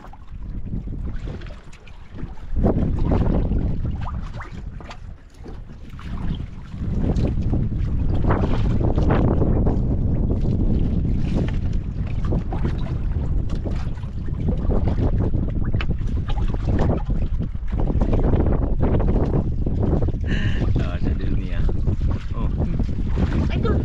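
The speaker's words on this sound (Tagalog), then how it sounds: "Hangin pero hindi ganong malakas ang alon." Strong wind buffets a fishing boat at sea, roaring in heavy gusts across the microphone with sloshing water beneath and brief speech mixed in.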